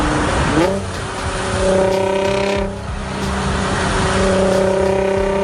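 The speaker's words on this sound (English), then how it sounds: "When I hear a straight pipe VQ" A car with a straight-piped VQ engine revs hard with a raspy, droning exhaust note, pitch rising and falling across a few loud sustained pulls.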